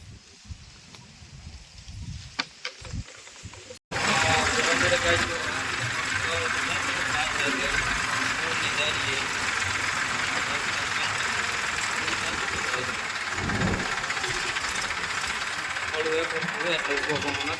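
A tractor engine runs on a farm field where mung beans are being sown. After a short quieter start it settles into a loud, steady, continuous drone, with voices talking over it.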